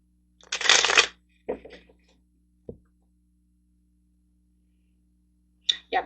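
Tarot cards are shuffled up close in a quiet room, one bold riffle followed by a few short soft shuffles and a tap, then another brief riffle at the end.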